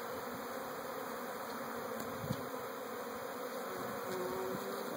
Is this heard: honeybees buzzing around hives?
yes